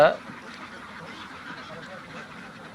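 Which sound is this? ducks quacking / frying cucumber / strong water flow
ducks quacking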